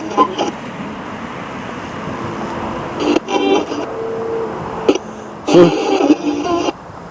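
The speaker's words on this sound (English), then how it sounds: "traffic's quite noisy here" Road traffic rumbles at night beside a cemetery, a steady wash of passing cars with several louder swells as vehicles go by, fairly close.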